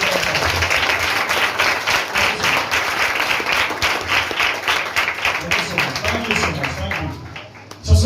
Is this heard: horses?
no